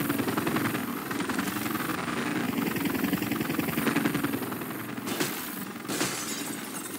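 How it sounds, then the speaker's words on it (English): Helicopter approaching in the Left 4 Dead 2 Dark Carnival campaign, a steady loud rotor and engine drone filling the whole clip, with brief sharp crashes near the end. "There's a chopper."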